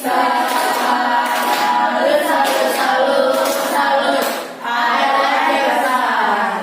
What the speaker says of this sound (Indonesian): Kasih tepuk salut untuk kelompok 1